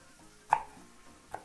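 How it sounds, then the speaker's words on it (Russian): A knife chops fresh cilantro on a cutting board for a Georgian eggplant appetizer, giving one sharp, close cut followed by a second fainter one in a quiet kitchen. "Кинзочку тоже будем молоть, поэтому нарезать ее можно не так мелко."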